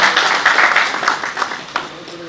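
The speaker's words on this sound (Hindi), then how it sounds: "आप सबसे भी अनुरोध करता हूं कि एक बार तालियां बजाकर इस कॉन्क्लेव की सफलता की शुभकामनाएं दें" Audience applause at the opening session of a media conclave, a dense wash of clapping from a crowd that swells and fades over a couple of seconds with a few sharper bursts.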